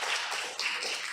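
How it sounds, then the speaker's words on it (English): Continuous applause from an audience at a council meeting, a dense, even wash of clapping that holds steady for the whole moment with no voices over it. "Let's give a round of applause."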